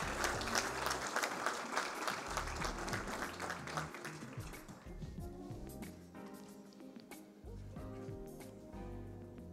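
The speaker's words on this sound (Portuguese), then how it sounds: "Vamos aplaudir, então, o novo cidadão emérito de Sorocaba." An audience applauds at a solemn municipal council session honoring a new emeritus citizen of Sorocaba, Brazil. Dense clapping is loud at first, then softens and thins as music plays underneath.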